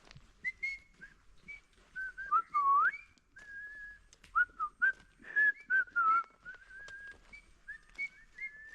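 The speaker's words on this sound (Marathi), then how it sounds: "अरे पक्षी शिट्टाले बरे वाजत हो मामा" A series of clear, melodic whistles rising and falling in short phrases with brief pauses, fairly close and otherwise quiet.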